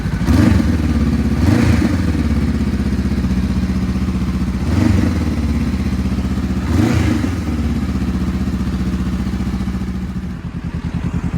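Honda CB500F motorcycle fitted with an Akrapovic exhaust, revved close up several times in rhythmic bursts over a loud, steady twin-cylinder idle, with the engine note dipping near the end.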